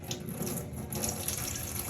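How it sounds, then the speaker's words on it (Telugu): Tap water runs steadily and close by into a sink or pot while rice is rinsed for the third time, a continuous splashing stream with no pauses. "ఇట్లా 3 times వాష్ చేసి వాటర్ని పారేయాలి"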